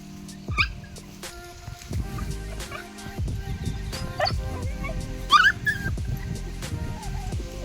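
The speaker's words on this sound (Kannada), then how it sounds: "ನಮ್ಮದು ನಾಯಿ ನೋಡ್ರಿ ಯಾವ ಥರ ಆಡ್ತಾಯಿದೆ" A dog plays near a farm field, giving short excited whimpers, yelps and gobbling vocal bursts scattered over the clip, close by, alongside scuffling and some faint voices.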